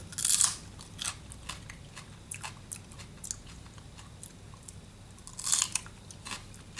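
Close, crisp bites and crunchy chewing of a fresh hibiscus flower in Malaysia, with two louder crunches near the start and end and softer chewing between, no talking.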